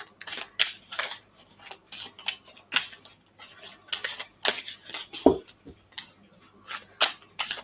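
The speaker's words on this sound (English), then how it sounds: "As I'm shuffling the cards for you, Melody" Cards are shuffled during a tarot-style reading, a series of crisp riffles and soft snaps in irregular bursts, close and moderately quiet with no talk.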